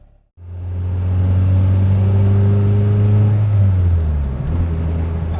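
A 1993 Honda Civic starts rolling down the road, its engine hum rising from near silence into a steady in-cabin drone that holds for several seconds, then shifts lower as the revs change.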